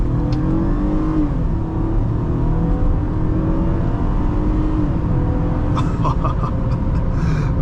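A 2009 Toyota Camry XLE V6 accelerating, heard from inside the cabin as a steady, muffled engine hum and road rumble that stays even and subdued throughout.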